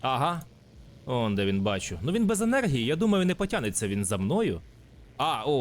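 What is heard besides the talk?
No everyday noise stands out behind the speech.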